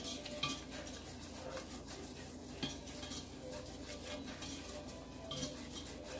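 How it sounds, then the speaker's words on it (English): Butter and flour being whisked together in a pan for a creamy langostino mac and cheese, a steady scraping and stirring with a few sharp metal taps against the pan, soft and continuous throughout. "start whisking this flour and the butter together"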